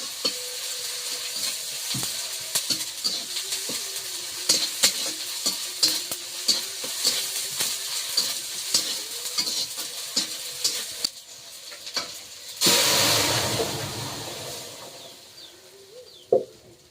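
Green chili and chopped tomato fry in a pan, a continuous close sizzle broken by frequent scraping stirs, then a sudden louder hissing burst for a couple of seconds before it settles and ends with a final clank.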